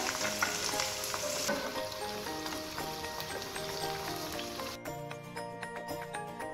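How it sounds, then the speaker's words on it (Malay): Eggplant sizzles and crackles steadily in hot oil, a dense frying hiss that carries on without pause, with no voices present. "minyak dah panas kita masukkan terung ni ya. Ha. Goreng dia sekejap ya."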